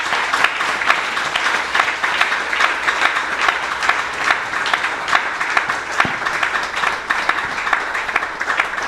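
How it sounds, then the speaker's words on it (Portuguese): A church congregation applauding during a service, dense sustained clapping from many hands filling the room, steady throughout and fairly loud, with a faint voice underneath. "Aplauda o Senhor, igreja."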